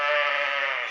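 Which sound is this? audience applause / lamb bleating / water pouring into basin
lamb bleating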